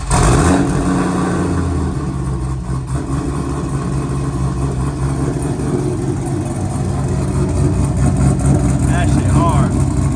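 A twin turbo supercharged classic car engine runs after a cold start, a loud, rough, rumbling idle that holds steady and close, with voices talking over it.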